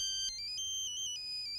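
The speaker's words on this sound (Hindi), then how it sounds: "रंभा का फोन है" A phone ringtone plays an incoming call in a South Indian action movie dubbed into Hindi, a steady electronic melody of stepping bright tones, clear and unaccompanied by talk.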